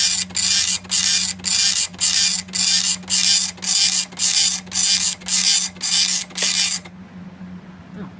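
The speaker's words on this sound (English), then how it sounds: "I'm now going to do a draft print quality test" An Epson FX-86e dot matrix printer rattles out a draft-quality test in rapid bursts, a dozen evenly spaced rasping passes, then stops leaving a faint hum.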